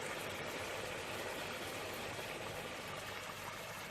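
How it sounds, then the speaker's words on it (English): A steady, dense rush of bubbling water boiling hard in a pot, loud and continuous throughout with no pauses. "It's boiling now."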